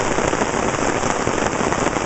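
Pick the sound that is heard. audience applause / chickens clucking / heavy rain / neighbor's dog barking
heavy rain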